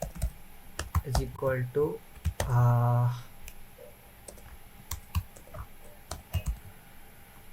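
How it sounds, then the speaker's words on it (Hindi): Computer keyboard typing during a coding session, scattered sharp key clicks and short bursts of keystrokes near the microphone, while someone speaks Hindi in between. "इसको यहाँ पे टाइप भी सबमिट दे देंगे"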